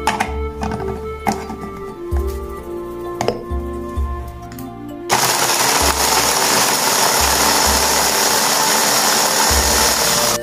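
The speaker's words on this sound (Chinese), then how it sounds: "先把这个蒜给它搅成碎末" A small electric chopper minces garlic for a sesame paste sauce: a few short mechanical whirs, then a loud, continuous grinding buzz running alone for several seconds.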